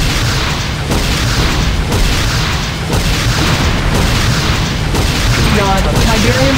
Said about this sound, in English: Tiberian refinery destroyed